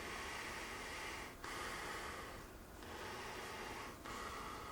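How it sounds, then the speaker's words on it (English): Steady breathing through the nose behind a reusable silicone face mask, a continuous soft airy rush with a few brief dips between breaths, close and fairly quiet with no talking. "Breathing through the nose"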